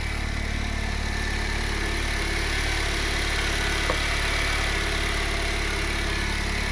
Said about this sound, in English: Yeah, that turbo is spinning all right.